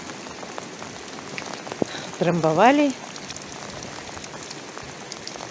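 Steady rain patters on a rural garden with strawberry beds, a constant close hiss throughout, while someone speaks briefly and a bird call rises over the downpour.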